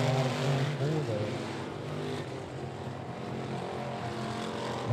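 Street stock race cars roar around a short track speedway, a dense continuous engine drone that rises and falls as the pack circles at a distance, with a crowd-like murmur underneath.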